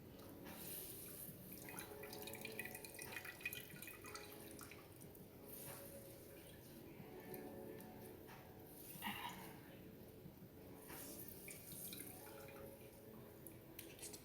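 Water squeezed from grated potatoes for latkes drips and trickles steadily at close range, quiet and without talk.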